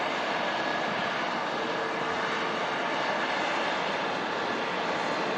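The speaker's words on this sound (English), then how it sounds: "followed out by the TUI Dreamliner, making the same turn onto Bravo" A TUI Boeing Dreamliner jet taxis at Manchester Airport, its engines producing a loud, steady, continuous roar with broad rumble and hiss that holds evenly throughout without any speech.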